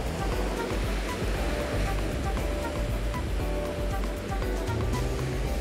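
Rough, churning ocean surf from high, murky waves at a fishing spot rolls on as a dense, constant roar, loud and near.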